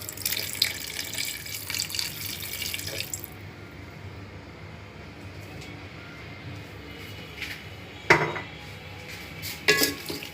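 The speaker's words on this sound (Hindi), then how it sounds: "अब इसमें तकरीबन ½ कप पानी डाल दें।" About half a cup of water poured into a pot of potato pulao, a splashing stream for a few seconds followed by quiet, then a couple of sharp clinks of a utensil against the pot.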